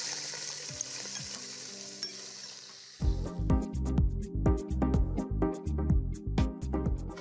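Onions dropped into hot oil in a pan, first a quiet hiss, then a loud burst of crackling, popping sizzle that carries on in dense bubbling waves, close up.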